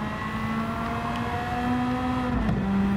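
A race car accelerating in Gran Turismo 7, with a steady engine drone holding a sustained tone and rising slightly in pitch near the end, continuous and close, with no talking.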